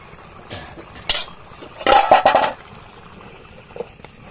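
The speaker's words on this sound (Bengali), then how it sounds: "এটার সাথে আমরা মাংসটা মিক্স করে দিব এখন।" A spoon scrapes and clinks in a pot while country chicken meat is mixed into nearly cooked biryani rice, with a few separate knocks and one short burst of stirring, close, against a quiet background.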